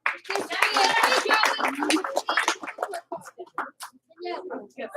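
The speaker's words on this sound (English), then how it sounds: "Give them 1 clap. Give them 2 claps." After a person speaks, a group at a school gathering gives a short cheer of unison claps: a few sharp, sparse claps in a counted pattern, close and crisp.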